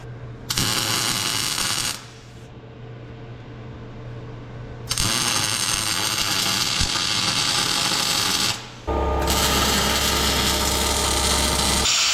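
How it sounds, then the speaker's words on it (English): An angle grinder grinds down welds on a truck body in three loud, sustained bursts, each a harsh whine and rasp of the wheel against the metal, separated by short pauses where the noise drops to a low hum. "Then we gotta grind it down again."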